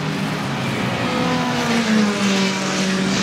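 Vintage race cars in the Richmond & Gordon Trophies at Goodwood Revival roar past continuously, with engine tones sweeping and rising as the field goes by, loud and steady with no talk.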